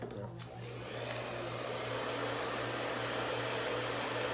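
Hair dryer blowing steadily on hair, a loud continuous rushing whoosh that holds from start to finish with no talking.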